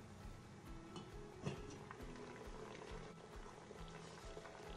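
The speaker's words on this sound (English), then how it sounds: "In boiling salted water, we want to add our rigatoni" A pot of salted water at a full boil gives off a steady, quiet bubbling hiss that runs unbroken throughout.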